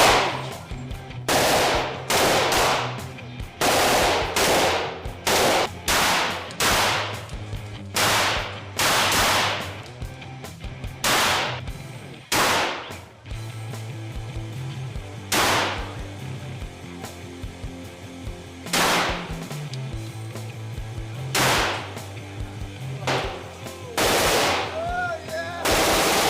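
Video game gunfire with sharp, loud shots, some single and some in quick bursts, crack out repeatedly over a low droning tone that steps between pitches underneath.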